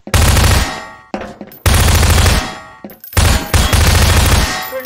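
Shotgun and handgun fire in a video game: three loud, close blasts, each decaying with a ringing tail, separated by short gaps, with no talking.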